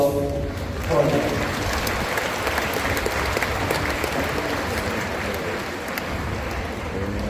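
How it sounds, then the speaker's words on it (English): Large audience at a De La Salle Lipa graduation ceremony applauding the graduates, a dense steady roar of clapping throughout, with a voice briefly audible near the start. "A warm round of applause for them."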